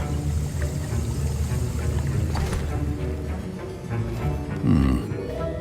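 A potion stirred in a cauldron in Hogwarts Legacy, a thick bubbling, sloshing churn with low gurgles, close and continuous, ending in a heavier glugging swirl.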